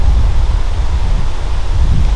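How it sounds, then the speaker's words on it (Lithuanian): Loud wind buffets the microphone in a continuous low roar that surges and eases in gusts. "Šiandien koks vėjas dar pučia."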